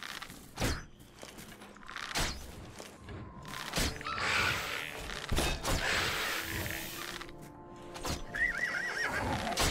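Horses neigh and whinny in the Oblivion video game, with sharp clip-clop hoofbeats and thuds between the calls, the shrill whinnies rising loud and close over a busy, rumbling background.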